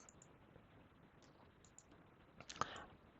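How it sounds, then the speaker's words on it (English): A single sharp computer mouse click on a sign-in button, faint against a quiet background hiss, with no talking. "Just click on sign in."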